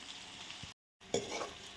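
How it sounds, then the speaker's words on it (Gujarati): Chopped onions fry gently in a pan over a low flame, a soft sizzle with a brief stir and a short silent gap midway, quiet and close. "સરસ ડુંગળીને સરસ એકદમ ચડવા દેવાની છે. ધીમી આંચ પર ચડવા દઈશું."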